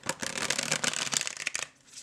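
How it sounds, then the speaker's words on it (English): A new matte-finish deck of playing cards being riffle shuffled close up, a quick crisp flurry of rapid flicking clicks lasting about a second and a half, then quiet. "It is really easy to shuffle."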